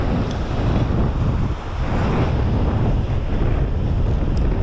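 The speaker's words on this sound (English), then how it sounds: "Sorry if it's super windy because I'm standing right in the wind" Strong sea wind buffets the microphone in loud, continuous rumbling gusts by the Hawaiian shore, with waves faintly beneath and a single brief word spoken.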